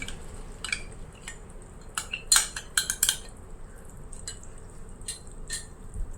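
A spoon mashes and stirs unsour yogurt in a bowl for a capsicum sweet corn masala curry, giving sharp metallic clinks and taps that cluster in a quick burst midway, close and clear, with soft squishy scraping between.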